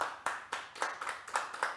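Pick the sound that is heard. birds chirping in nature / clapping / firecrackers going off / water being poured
clapping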